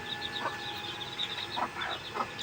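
Soft, scattered clucks from a couple of hens, irregular and close by, over a faint steady background hum.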